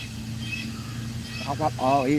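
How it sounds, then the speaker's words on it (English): A few harsh, rising blue jay calls break out over a constant low engine drone, loud and close toward the end. "that was another blue jay"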